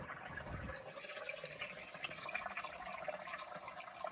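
Water flows steadily beside a shady rest spot on the Pacific Crest Trail, a soft, continuous wash close by with no voices.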